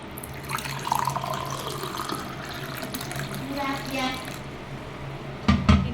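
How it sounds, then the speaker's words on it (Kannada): A cooling-seed drink is poured into a glass as a steady liquid trickle, ending in a couple of louder clinks and splashes near the end, with a low voice faintly murmuring underneath. "ಅದಕ್ಕೋಸ್ಕರ ಒಂದು ಲೋಟ ಹಾಕಿ ಕುಡಿಯುವ"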